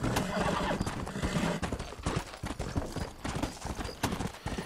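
A horse gallops with steady rapid hoofbeats and an occasional whinny in the Red Dead Redemption video game, loud and continuous under faint talk.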